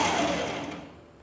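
A Preethi Zodiac mixer grinder, pulsed briefly, gives a close, loud whirring burst that winds down and fades within about a second.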